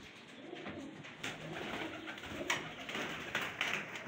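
Pigeons at a rooftop loft coo softly in repeated low, throaty phrases over steady background hiss, with several birds overlapping at a moderate distance and no talking.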